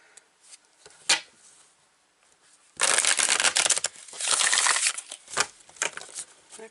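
A Light Seers tarot deck is shuffled by hand: a few scattered card taps, then bursts of rapid riffling and flapping cards, close and crisp, with no voices.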